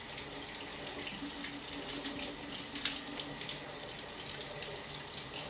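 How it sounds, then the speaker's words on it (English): Tap water running steadily into a sink while paintbrushes are rinsed, a constant close hiss and splash with no break. "Now I'm just gonna rinse them."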